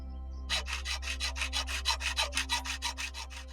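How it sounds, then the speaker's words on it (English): A hacksaw cuts through van flooring trim by a sliding door, giving about fifteen quick, even rasping strokes at close range with no talk. "I'm now going to get through this"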